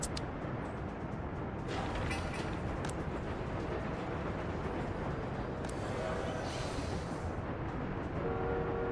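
A train in a city-building video game rumbles and clatters continuously, with a brief horn-like tone partway through and a steady mechanical roll throughout.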